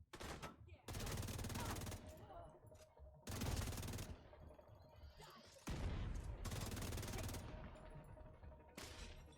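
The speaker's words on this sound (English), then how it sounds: "We got ourselves a little bit of an explosion." Repeated bursts of heavy gunfire and explosions in The Division 2, loud sustained volleys in four separate blasts with brief gaps between, close and dense.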